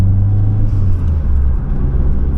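Repaired Ford Cosworth car engine running steadily, a loud, close, deep rumble that holds an even idle throughout with no talk.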